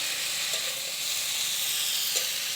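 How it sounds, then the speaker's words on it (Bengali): Pumpkin greens for chochchori are stirred and sautéed in a hot pan, giving a loud, close, continuous sizzle with a couple of faint stirring scrapes. "দেখতেই পাচ্ছেন কখন থেকে নাড়াচাড়া করছে, কষাকষি হচ্ছে"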